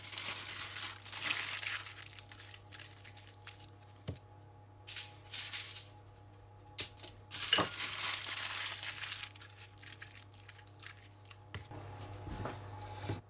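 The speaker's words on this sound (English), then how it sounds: "wrap it in the foil" Kitchen foil crinkles and crumples as it is wrapped around beetroot, in close bursts of rustling with quiet gaps and a low steady hum underneath.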